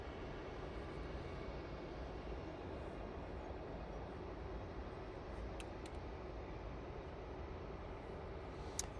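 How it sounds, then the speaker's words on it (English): EasyJet airliner passing over Manchester Airport, a low distant engine rumble that stays steady and faint throughout, with no talking. "EasyJet crossing over now."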